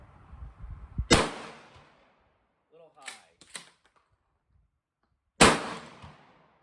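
A Mossberg 500 shotgun fires 2.5-inch .410 bore slugs at a target 25 yards away on an outdoor range: two sharp, loud reports several seconds apart, with faint handling clicks and rustling between them.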